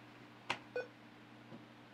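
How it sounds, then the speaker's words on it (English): An Acer Predator Helios 300 gaming laptop gives a couple of quick, quiet electronic beeps in a DOS style when its power is unplugged, a short tone followed by a second in a near-silent room. "It was like a DOS beep at me when I unplugged the power."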